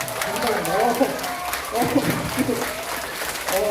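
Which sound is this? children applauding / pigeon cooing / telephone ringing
children applauding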